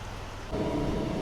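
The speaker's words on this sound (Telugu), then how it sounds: "సో వర్షం అయితే మాత్రం కొద్దిగా ఫుల్గా అయితే పడుతుంది" Heavy rain at Venkatachalam Junction railway station pours as a dense, steady hiss, swelling louder partway through, with no voices.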